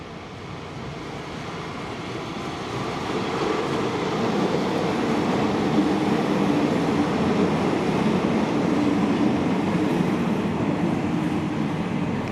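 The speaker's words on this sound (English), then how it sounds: "CPH rail motor number 1, 3 and 7 are seen pulling into Maitland from their last run to Paterson for the day." Vintage 1923 CPH rail motors, numbers 1, 3 and 7, arriving into Maitland station, a steady rumbling diesel drone and rail noise that swells gradually and holds at close range.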